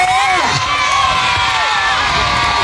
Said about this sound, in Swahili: Ongeza makofi kwa ajili ya Yesu Kristo